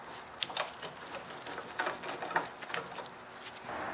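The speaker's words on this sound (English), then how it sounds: "now with my 5/16 nut driver, I'm going to remove the bolt on the handlebars." Metal clicks and ratcheting taps from a 5/16 nut driver loosening a bolt on the handlebars of a Craftsman Husqvarna snowblower, a close, irregular series of short sharp ticks with no talking.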